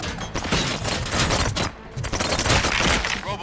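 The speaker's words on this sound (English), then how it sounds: "Gunshots? What's going on?" Rapid bursts of gunfire in the game RoboCop: Rogue City crackle and boom in dense volleys, loud and continuous, with a brief lull before the shooting resumes.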